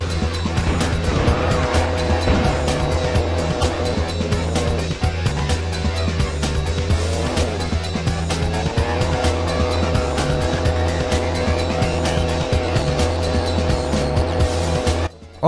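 A motorbike rides in the PS1 video game Team Buddies, with a steady, loud engine drone and tire squeals running continuously from start to finish and little else over it.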